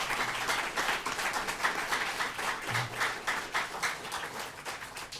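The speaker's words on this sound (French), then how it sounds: "On lui doit encore 5 secondes d'applaudissements" An audience at a Burkina Faso young entrepreneurs' event gives an honoured guest sustained applause, steady rhythmic clapping from many hands, moderately loud and unbroken for several seconds.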